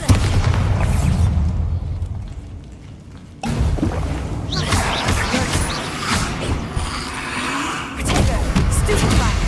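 Bombarda explosion spell cast in the video game Hogwarts Legacy: loud, booming blasts and crashing impacts fill the whole stretch, with a sharp new burst partway through and dense rumbling battle noise throughout.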